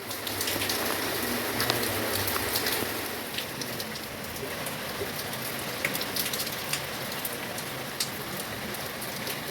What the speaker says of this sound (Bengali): বাইরের যা অবস্থা, প্রচুর পরিমাণে বৃষ্টি হচ্ছে